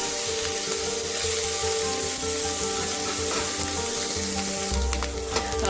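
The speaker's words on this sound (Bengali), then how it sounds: "এবার একবার হালকা ভাজা হয়ে গেলে উল্টে পাল্টে ভেজে নেব ভালো করে।" Young snakehead fish (leta) frying in a pan give off a steady, loud, dense sizzle that runs the whole time, with a few sharper crackles and spatters near the end.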